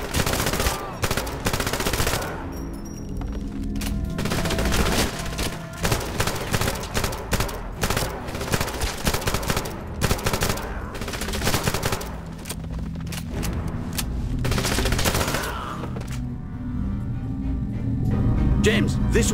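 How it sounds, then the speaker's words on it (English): Sustained automatic gunfire in the 007 Legends shooter game, close and loud bursts with brief gaps across the clip, with voices shouting over the shooting. "I need cover fire!"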